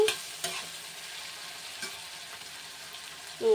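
Vegetables for masala upma fry in a pan with a steady, even sizzle, while soft stirring scrapes and a few sharp taps from a spoon against the pan rise above it.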